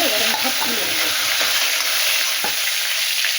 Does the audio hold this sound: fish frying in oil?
yes